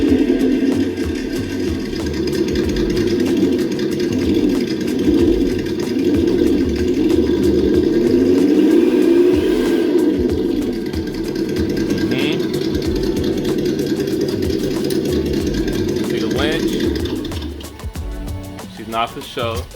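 A Ford F-250 Super Duty truck engine runs at a steady idle, loud and close for most of the stretch, then cuts off near the end with brief handling noises.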